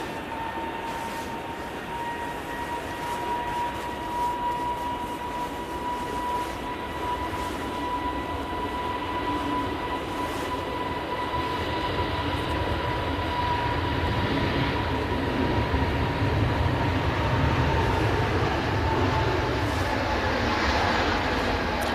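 Airbus A320neo jet engines spool up for takeoff at Manchester Airport early in the morning, a steady broadband roar with a sustained whine that holds for the whole stretch and swells slightly louder toward the end.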